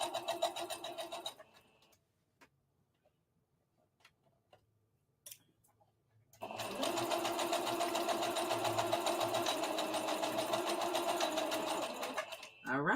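A sewing machine stitches a circle dress seam in two bursts, a short run at the start, then near-silence with faint taps, then a long, steady, rapid-ticking stitch run close by.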